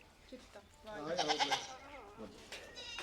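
A Barbari goat bleats in a burst of wavering cries near the middle, with a shorter call near the end, close and clear over low background noise.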